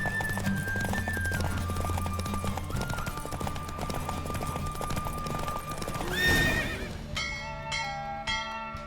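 In The Witcher 3: Wild Hunt, rhythmic hoofbeats clip-clop at a quick pace during a horse race, followed by a loud horse whinny and then bright bell-like chimes near the end.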